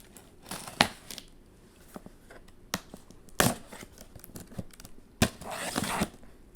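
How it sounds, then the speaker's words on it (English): A small tape opening tool slices and tears packing tape on a cardboard box, giving a series of sharp rips and crinkles in irregular bursts, close and fairly loud, with no talk. "let's go ahead and get my little tape opening tool"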